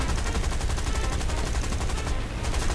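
Machine-gun fire strikes a player's plane in War Thunder, a loud, dense rattle of rapid shots that runs without pause for a couple of seconds.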